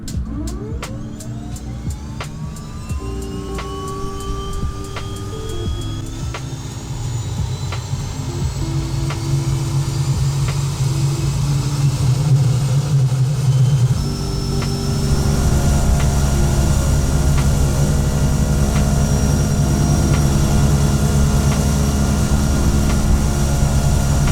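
Cabin drone of a Carenado C208B single-engine turboprop in Flight Simulator X: a loud, steady propeller and engine roar with tonal whine, starting up and rising in pitch partway through.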